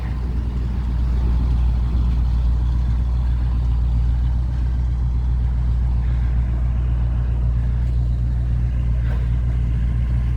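An old bus with a fuel-injected 460 big block engine idling, a loud, steady low rumble heard up close for the whole stretch with no talking.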